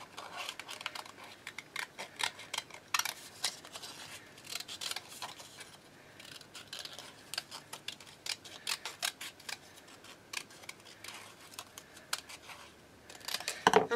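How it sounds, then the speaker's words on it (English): Small scissors snip around a piece of paper card for a handmade card in a run of quick, crisp, faint cuts that come in irregular bursts, close up in a quiet room with no one talking. "I need those little scissors just to cut around here"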